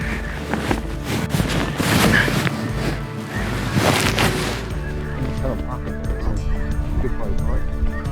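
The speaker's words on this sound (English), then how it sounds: "couple thousand birds just got up off the water heading this way" A large flock of snow geese, a couple thousand birds lifting off the water during a South Dakota spring hunt, honks continuously overhead in a dense, loud chorus that swells and carries on throughout.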